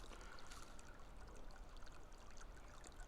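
A small year-round stream runs beside an old home place in Welch Hollow, giving a faint, continuous rushing trickle with no voices.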